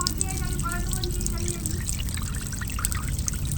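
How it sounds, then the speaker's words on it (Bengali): Water settled above soaked flour is poured off, giving a steady close trickle and pour that thins out toward the end. "একটুখানি জলটা থিতিয়ে গেলে এরকমভাবে ফেলে দিতে হবে।"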